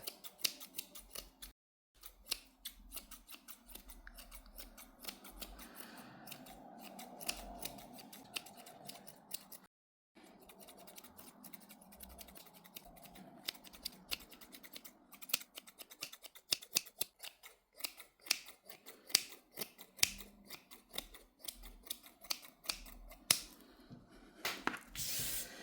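Scissors snip and trim a yarn pom-pom for a crocheted hat, giving many small, quiet, crisp cuts in irregular bursts with short pauses between them and no talk.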